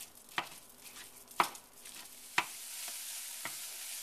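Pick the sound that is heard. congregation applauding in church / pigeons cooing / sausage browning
sausage browning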